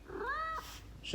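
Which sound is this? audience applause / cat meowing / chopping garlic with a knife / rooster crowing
cat meowing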